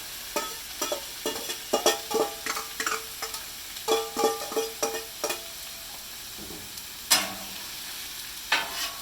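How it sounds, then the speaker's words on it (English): Steady sizzling of rice frying on a hot griddle, with repeated scraping and stirring clatter from a utensil, close and fairly loud. "Hear that wonderful sizzle."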